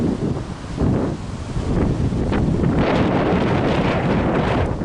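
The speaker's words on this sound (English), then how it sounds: "It's too windy today." Strong outdoor wind buffets the microphone in loud, rumbling gusts that rise and fall for several seconds, with no voice heard.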